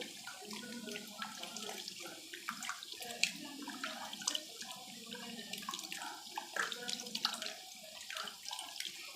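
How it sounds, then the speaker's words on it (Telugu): Tap water runs steadily into a vessel in a home kitchen while fish curry is being prepared, a continuous splashing flow with faint dripping, no voices. "ఈ వాటరు సరిపోదండి, మళ్ళీ వాటర్ పోసుకోవాలా."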